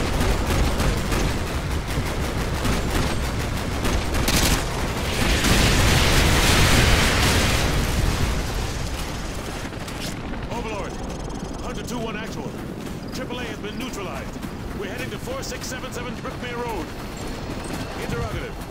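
Artillery strike explosions in Medal of Honor, a dense stretch of loud booms and rumbling blasts mixed with bursts of gunfire, peaking midway, with voices talking over the battle.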